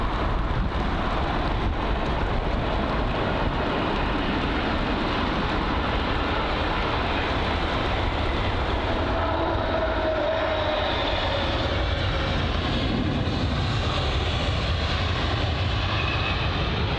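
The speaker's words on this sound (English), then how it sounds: "That's the BA 777 on its touchdown here into London Heathrow 27 right." A British Airways Boeing 777 touches down on runway 27R at London Heathrow, its engine roar broad and steady for the whole stretch, loud and fairly near, with wind buffeting the microphone.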